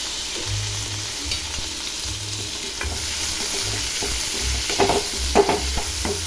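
Tomatoes sautéing in a pan with ginger garlic paste for a chicken kulambu, a close, continuous sizzle broken by several scraping stirs, busier near the end, with no talking.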